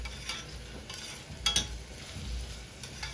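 Chopped onion frying in hot oil gives a faint, crackly sizzle with a few brief clinks and stirring scrapes, quiet and close, no voices present.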